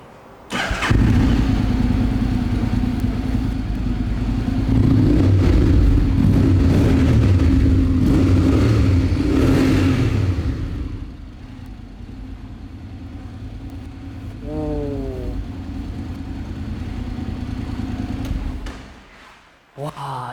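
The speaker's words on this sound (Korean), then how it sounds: "제가 한번 시동을 켜서 확인 한번 해보겠습니다." A large scooter engine, a Kymco X-Adventure big touring scooter, starts with a loud burst and idles with steady revving, then the rumble drops lower and runs on quieter, with brief talk near the end.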